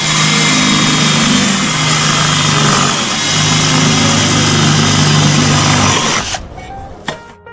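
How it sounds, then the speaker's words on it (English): A power drill bores holes through a solar panel bracket, a steady loud whirring run of about six seconds that cuts off abruptly, leaving faint clicks and quiet room sound. "let's go ahead and drill the holes now"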